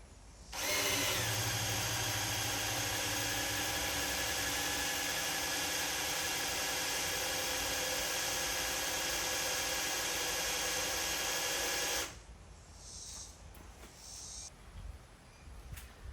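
A power drill spins a Chevy V8's engine oil pump, whirring continuously at steady high speed for about eleven seconds, then cuts off, leaving faint background noise and a few light clicks.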